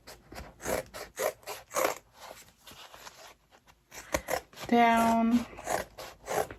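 Scissors snipping through fabric stitches while making a unicorn top-zip bag, a series of close, short rasping cuts between bursts of talk, with a brief tonal squeak near the end.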